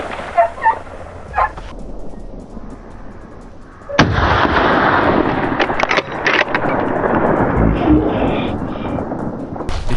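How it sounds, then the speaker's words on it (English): Hunting rifle fired at a wild boar on a Carolina hunt: after a few faint clicks and thumps, a single loud, close shot bursts out and is followed by a long, rumbling, noisy roll that lasts to the end. "The gunshot roared, dust filled the air, and the beast collapsed"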